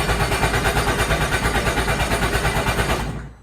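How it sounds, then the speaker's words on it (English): A 2021 Sea-Doo GTI 170SE engine cranks in dry mode with throttle held, a loud steady rhythmic chugging whir that winds down and stops near the end. "he held the throttle and then also held the start button"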